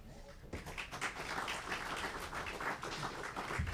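Audience applause at a municipal environment commission meeting on abandoned ships in Guanabara Bay, a steady dense patter of many hands clapping that swells after a brief quieter start and carries on throughout.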